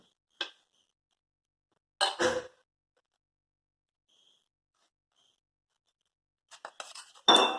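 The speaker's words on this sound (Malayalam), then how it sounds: "ഇത് നന്നായിട്ട് മിക്സ് ചെയ്ത് വയ്ക്കും." A spoon mixing tomato sauce and cornflour in a bowl, heard as a few brief, clear clinks and scrapes separated by long near-silent gaps, with a denser burst of clinking at the end.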